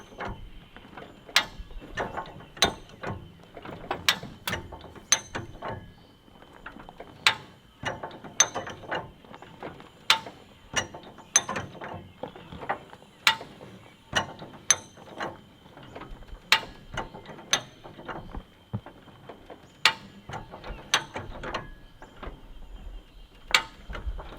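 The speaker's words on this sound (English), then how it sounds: "operate the high lift jack, careful not to be touching the wheel itself, and keep pressing down" A high-lift jack is pumped by hand to raise a vehicle, giving a long series of sharp metallic ratcheting clicks in a steady, fairly quick rhythm, close and clear with no talking.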